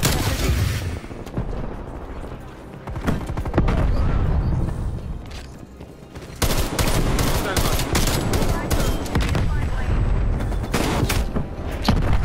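A grenade blast and dense automatic gunfire in a first-person shooter video game fill the scene, loud and continuous with heavy booms, pausing briefly midway before the barrage resumes, with a voice faintly under it.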